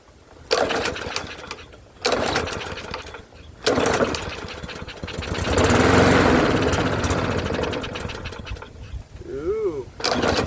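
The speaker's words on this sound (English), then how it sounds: "Instead of it starting and dying, it should stay running if the carburetor is clean." A lawnmower engine with a freshly cleaned plastic carburetor runs in loud, uneven bursts, starting, dropping off and restarting, then holding a steadier roar; someone talks briefly over it.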